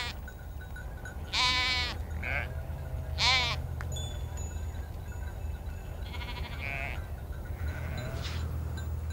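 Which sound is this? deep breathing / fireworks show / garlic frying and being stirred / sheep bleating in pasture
sheep bleating in pasture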